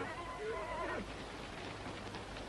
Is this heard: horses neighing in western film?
yes